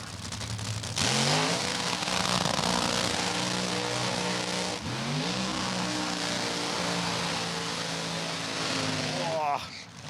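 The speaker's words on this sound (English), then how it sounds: "got that car a little bit sideways in the burnout" An Aeroflow Outlaw Nitro Funny Car roars through a burnout at a Darwin drag meet, its engine revving up in rising sweeps, loud and sustained with tyre screech beneath, under a commentator's voice.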